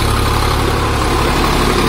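A 50 HP Sonalika DI 745 tractor with power steering and a tiller runs in a loud, steady, close rumble that holds evenly throughout.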